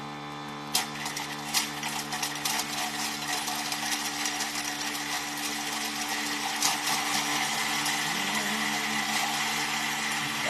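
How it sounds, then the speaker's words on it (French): A Thermomix food processor runs while herbs are added for crêpe-based carnivore pasta, giving a steady, fairly loud motor whir with a constant hum that continues unbroken for the whole stretch, with no talking. "On part notre Thermomix"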